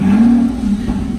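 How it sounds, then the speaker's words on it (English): Aston Martin Rapide V12 exhaust rumbling loudly and steadily up close, a deep continuous roar with a brief rise in revs near the start and no talk over it. "That's the brilliant V12 engine of Aston Martin, and that is unbelievably loud"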